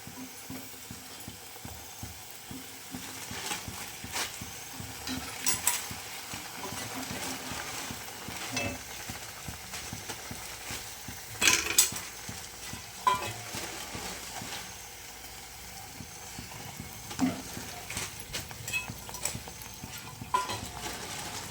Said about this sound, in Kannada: ಈ ಥರ ಮೇಲ್ಗಡೆ ಎಲ್ಲ ಎಣ್ಣೆ ಹಾಕಬೇಕು